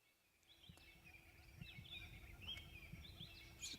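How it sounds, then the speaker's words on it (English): Robins and other birds calling at sunrise in the Sabi Sand bush, high thin whistles and chirps repeating over a quiet background, moderately distant and soft. "Listen to the birds calling, robins mainly."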